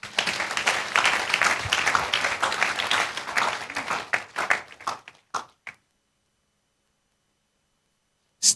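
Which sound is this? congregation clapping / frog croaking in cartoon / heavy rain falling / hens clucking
congregation clapping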